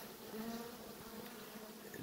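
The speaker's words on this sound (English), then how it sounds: "inside this room, I got to deal with all the bees" Honeybees from an opened, disorganised winter hive colony in Michigan hum in a steady, close swarm drone that fills the air without pause or voices.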